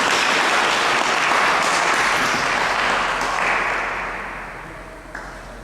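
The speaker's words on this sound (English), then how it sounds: "Give Ms. Trim a round of applause, please." An evening debate audience gives a round of applause for the timekeeper, a dense burst of clapping from many hands that holds steady, then fades out over the last couple of seconds.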